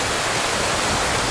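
Icelandic waterfalls pour down along a black cindery ash trail, producing a steady, loud, broadband roar of rushing water with no breaks or voices.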